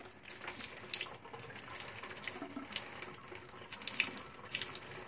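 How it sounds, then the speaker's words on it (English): Dark, tannin-stained water from a shrimp tank, stained by alder cones and oak leaves, is tipped out of a container, giving a steady close splashing and trickling pour that runs for several seconds with no voices. "And we're going to tip this water out now."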